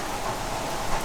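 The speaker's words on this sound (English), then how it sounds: "It's raining up there right now." Rain falls steadily outdoors in a dense, even hiss with no pauses or distinct drops, loud and close for the whole stretch.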